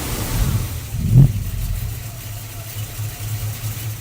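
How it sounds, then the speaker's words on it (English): A 1973 Ford Mustang Mach 1 with a big 351 V8 and four-speed manual fires up close by, gives one short rev burst, then settles into a steady, rumbling low idle. "I couldn't help but rev it just a little bit because this big old 351 sounds like it's ready to go"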